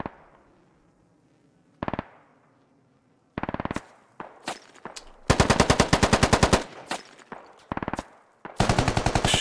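Video game gunfire from SquadOps, with grenades mentioned, rattles in rapid automatic bursts: short volleys, then long sustained strings of shots, loud and close with decaying echoes between.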